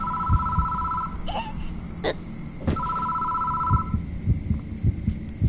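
A telephone in the Death Mark video game rings insistently in two bright bursts, separated by a short pause, over a low, throbbing heartbeat.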